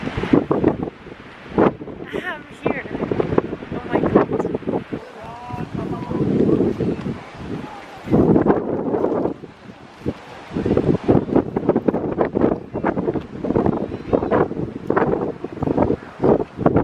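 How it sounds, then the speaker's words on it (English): Gusty wind buffets the microphone at the Echo Point lookout facing the mountains, a broad roaring rumble rising and falling in bursts, with a person talking intermittently over it. "it's so chilly and windy"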